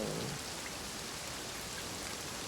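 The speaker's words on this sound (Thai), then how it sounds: "ฝนตก" Steady, dense rain hisses without a break in a multiplayer PC fishing game, a constant even wash of sound with no talking over it.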